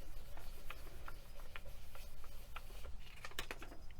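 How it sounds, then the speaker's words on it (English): Paper rubbing across the back of a faux agate polymer clay piece during burnishing, heard as faint, soft scratchy strokes over a low background hum. "I'm just going to get a piece of paper and just give this a little burnish"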